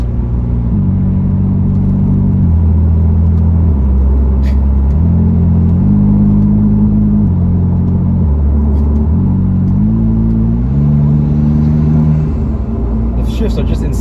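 A BMW F80 M3 with stage 2 turbos accelerates hard, its loud engine drone climbing in pitch through a steady rhythm of quick DCT upshifts, each shift dropping the note before it rises again, with brief talk over the run.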